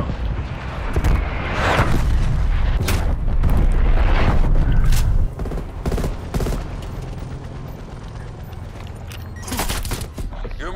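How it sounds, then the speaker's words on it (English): Artillery strike in Call of Duty Black Ops Cold War on the Portage Indiana map: a dense, loud barrage of booming explosions and crackling impacts rolling continuously, easing after midway into scattered blasts and rumble. "Artillery inbound."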